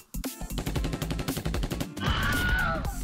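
Rapid bursts of video game gunfire crackle over a thumping game soundtrack, dense and continuous, with a brighter ringing effect near the end.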